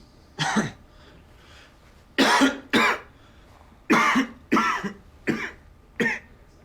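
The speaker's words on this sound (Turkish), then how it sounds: "Öksürün." A person coughs repeatedly, about eight short, harsh coughs in uneven clusters, close and clear with quiet pauses between them.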